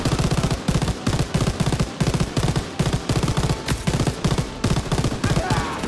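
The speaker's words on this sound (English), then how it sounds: "Open fire! Someone get on the MG!" Machine gun fire in the World War II shooter Call of Duty WWII, a loud, steady stream of rapid rattling shots in short repeated bursts, with shouting voices mixed in.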